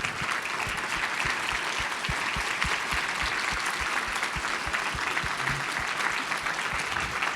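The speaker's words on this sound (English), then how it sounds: "Let's give them a round of applause." An audience at a conference on Canadian radiotheranostics applauds frontline healthcare workers, producing sustained, even clapping from a roomful of people that carries steadily throughout at moderate loudness, with no talking over it.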